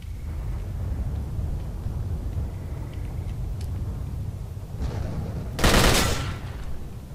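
Gunfire in the S.T.A.L.K.E.R. video game: a steady low rumble of game ambience runs throughout, broken near the end by a sudden loud burst of shots. No voices are heard.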